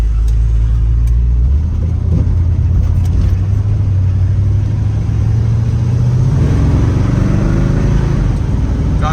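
A 1970 Ford Mustang fastback with a 302 V8 revs while driving, its deep, steady engine rumble swelling loud and close, with the pitch climbing toward the end of the run.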